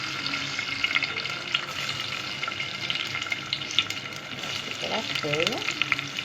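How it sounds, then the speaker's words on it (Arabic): Washed Egyptian short-grain rice frying in hot oil and a spoonful of ghee gives a steady close sizzle with stirring scrapes, and a voice speaks briefly. "معايا زيت، معلقه سمنه، هنسيبهم يسخنوا، هننزل بحبه كده من الرز البلدي المغسول"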